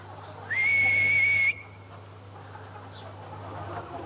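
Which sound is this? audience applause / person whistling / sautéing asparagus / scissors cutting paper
person whistling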